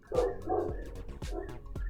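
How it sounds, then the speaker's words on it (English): Neighbours' dogs barking outside a rundown rental house, several sharp barks in quick succession from a short distance, with no talk over them. "See, the neighbors' dogs agree."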